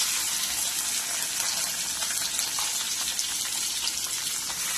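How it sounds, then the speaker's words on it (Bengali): Shrimp frying in mustard oil in a wok: a steady, dense sizzle with a watery crackle that holds at an even level throughout, close and fairly loud, with no talking. "সেম কড়াইতে আমি আরেকটু সর্ষের তেল দিয়ে দিচ্ছি এবং এর মধ্যে আমি দিয়ে দেবো চিংড়ি মাছ"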